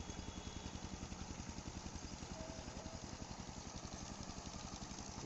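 A tractor engine chugs in a steady, rapid thumping rhythm at a rural village edge, running continuously and sounding faint and distant with no voices.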